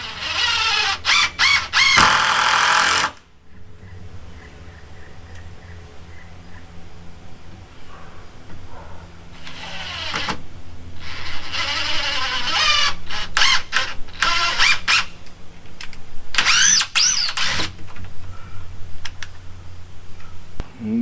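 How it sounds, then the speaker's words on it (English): Two 3-inch construction screws driven through a bottom plate into a shed's rim joist with a power driver, giving loud bursts of whirring motor and screw bite separated by quieter pauses. "So I just want to run a couple screws through right into the rim joist."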